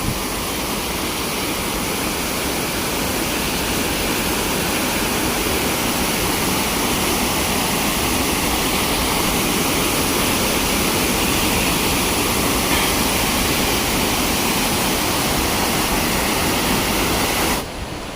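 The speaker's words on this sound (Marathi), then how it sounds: "हा बघा कसला धबधबा" A waterfall in the Konkan countryside roars loudly and steadily, a dense rushing wash of falling water that continues unbroken throughout, with no voices.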